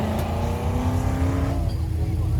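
Close and loud, a 1960s Le Mans V8 race car pulls away up a hill climb course, its engine pitch rising before the sound fades and thins as the car moves off.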